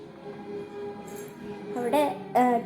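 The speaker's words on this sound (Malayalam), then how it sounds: "അവിടെ TV വെച്ചിരുന്നു കേട്ടോ. അതാണ് സൗണ്ട്." A television playing in a home room, its voices and tonal sounds fairly quiet and steady, with two louder harmonic bursts near the end.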